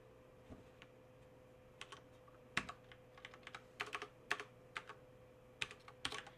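Typing on a computer keyboard, a series of quiet, irregular key clicks and taps in short bursts over a steady low electrical hum, with no one speaking.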